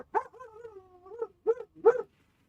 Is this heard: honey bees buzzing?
no